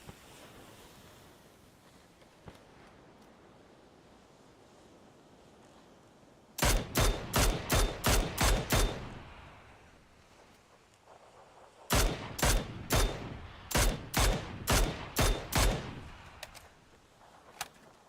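Two separate bursts of rapid gunfire from PUBG, a Groza rifle among the weapons, each a run of about eight sharp loud shots in quick rhythm, over a steady windy, surf-like background hiss with no talking.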